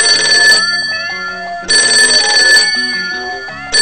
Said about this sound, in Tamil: அம்மா ஃபோன் பண்றாங்க.